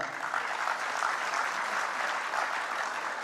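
Steady, dense applause from a large audience fills the whole stretch at even loudness, closing out a speech on energy policy and national sovereignty.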